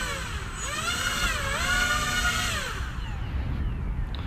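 A CargoTrans C-160 model plane with twin electric motors taxis on long grass. The whine rises and falls as the throttle changes, over a steady background of outdoor noise.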